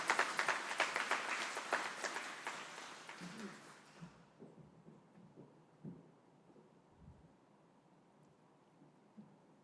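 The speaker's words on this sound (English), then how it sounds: "Please give them a round of applause." Applause from the audience at a military graduation ceremony for Army aviation trainees at Fort Eustis, a loud burst of clapping that fades out after about four seconds, leaving faint scattered room noise.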